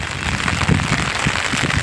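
Steady rain falls beside a dam barrage, a dense, constant hiss of drops with soft low thumps, close and loud and without speech.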